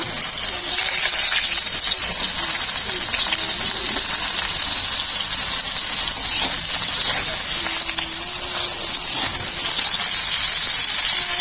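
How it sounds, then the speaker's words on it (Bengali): Eggplant pieces fry in mustard oil in a pan with a loud, constant hiss and crackle that fills the whole stretch close by, with no pauses. "বেগুনগুলো ভেজে নেব।"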